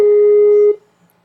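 A steady electronic phone tone sounds loudly on a call, holding for most of a second before cutting off abruptly into near silence.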